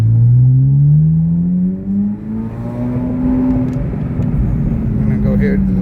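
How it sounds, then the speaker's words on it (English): A 2023 Corvette Z06 3LZ Z07 convertible driven in Z mode on the road gives a loud, steady engine drone that climbs slowly in pitch, with continuous road rumble underneath. "Right now I'm switching to Z mode, and it's just amazing the way it sounds,"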